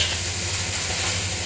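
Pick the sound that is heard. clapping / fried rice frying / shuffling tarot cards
fried rice frying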